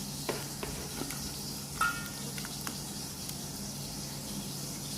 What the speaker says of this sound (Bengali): দিয়ে এখন আমি এটা ভালো করে মাখি